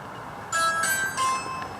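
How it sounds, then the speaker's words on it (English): A house doorbell in a newly built North Texas home chimes in two quick electronic tones followed by a fading ring, heard from nearby over faint room hiss. "So that's the ring. That's the doorbell."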